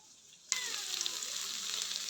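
Fish dropped into hot cleaned oil, quiet at first, then a sudden loud hiss as it hits the pan, settling into a steady sizzling crackle with no talking.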